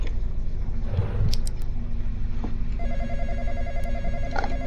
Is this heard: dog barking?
no